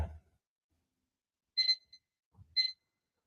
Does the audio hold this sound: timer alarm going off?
yes